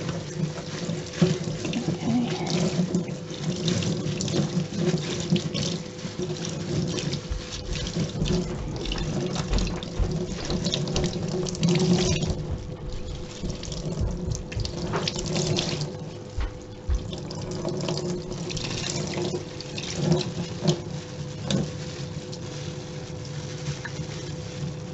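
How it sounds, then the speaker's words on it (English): Tap water pours continuously into a sink as dyed cotton is rinsed under it, a close, steady splashing hiss with small fluctuations from handling the fabric, no talking. "Just let the water run."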